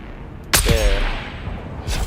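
In the video game Dune Awakening a loud, close gunshot cracks once and then rings out in a fading tail. A softer second burst arrives near the end.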